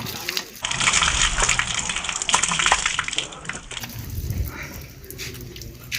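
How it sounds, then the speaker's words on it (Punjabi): Cold fresh water gushing from a hand pump, a steady splashing rush that starts after a brief pause and runs on beneath close talking and background voices. "ਇਹ ਨਲਕੇ ਦਾ ਤਾਜ਼ਾ ਪਾਣੀ"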